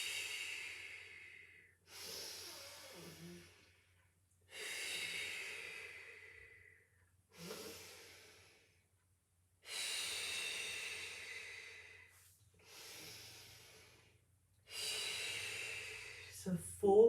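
Slow, deliberate breaths during a Pilates exercise, with six long airy inhales and exhales separated by short pauses, close and fairly quiet, with no other sound.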